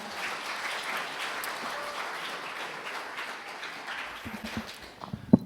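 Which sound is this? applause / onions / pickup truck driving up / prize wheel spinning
applause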